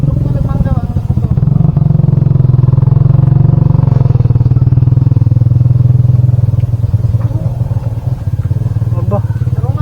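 A motorcycle engine runs loud and close throughout, a steady rumbling drone with rattling, while people talk over it.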